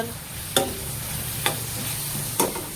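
Chopped onion sizzles steadily in a hot spice tempering for a dry cowpea-pod vegetable, with three sharp spatula scrapes spaced about a second apart.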